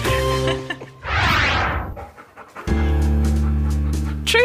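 A beagle panting close by in quick, rhythmic breaths, with a faint whine along with it and a brief quieter gap partway through.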